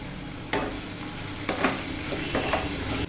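Cassava (kappa) being stirred in a frying pan, a steady sizzle of oil under a few distinct scraping strokes of the spoon against the pan, close and fairly loud, with no talking.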